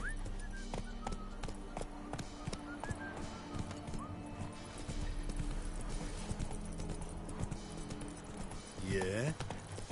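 Hooves of Roach, a horse in The Witcher 3 video game, clip-clop in a steady galloping rhythm throughout, with occasional neighs and game music and effects layered underneath.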